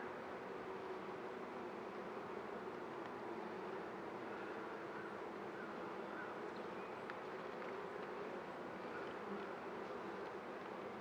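Honey bees in an opened beehive, their dense, steady buzz filling the air at low level without pause, with no talk.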